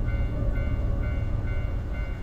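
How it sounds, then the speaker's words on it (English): A railroad crossing in a spooky video game, heard as a continuous low rumble of trains and rail machinery, steady and fairly quiet, with no clear bell strikes standing out. "I hear the sound of the railroad crossing."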